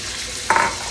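Butter stirred into a hot pan of sizzling salmon, a steady broadband fry with a louder burst of crackling midway through the short stretch.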